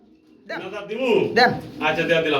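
Pigeons cooing close by in a breeder's pigeon-selling setting, a few soft throaty coos in succession, with voices speaking alongside.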